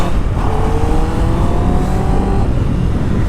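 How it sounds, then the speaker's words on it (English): Honda CB650R inline-four motorcycle engine holding a steady, loud, smooth drone with a rising tonal whine, heard up close while riding, no talk. "The sound is soothing, man. Inline 4 sound."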